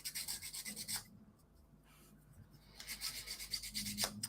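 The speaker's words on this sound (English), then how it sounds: "So at the moment, I'm just sanding down the ends because, you know, once the track meets, it needs to be a nice flush fit." Sandpaper rasping back and forth over the ends of a wooden rollercoaster track piece, in close, steady rhythmic strokes that stop briefly mid-way and then resume.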